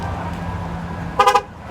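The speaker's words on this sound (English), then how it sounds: "that's telling me that I'm leaving the car with the key in my pocket" A 2015 Cadillac Escalade gives a quick pair of horn chirps, loud and close, standing out from the low rumble of the surroundings as a warning that the key is being carried away.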